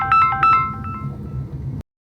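A mobile phone ringtone plays from a taxi driver's phone while he calls a passenger in rainy Mumbai, a short bright electronic melody that is loud and close before cutting off abruptly.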